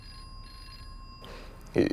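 Hotel room telephone ringing in two short electronic bursts, a brief pause between them, followed by a louder thump and rustle near the end.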